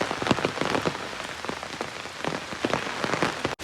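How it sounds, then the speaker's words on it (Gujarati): Heavy rain falling steadily, a dense close wash of drops hitting surfaces with no pause, loud and constant, with no voices. "ફૂલ વરસાદ ચાલુ થઈ ગયો"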